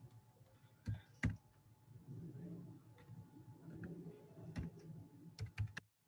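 Quiet typing on a computer keyboard, with a few sharp isolated key clicks and short bursts of soft tapping over a low room hum.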